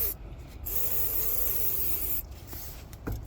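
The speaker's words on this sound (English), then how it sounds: "give them a little spray with brake cleaner if you want to" Brake cleaner hisses from an aerosol can onto brake guide pins in a short steady spray of about two seconds, close and fairly faint, with small clicks and handling noises around it.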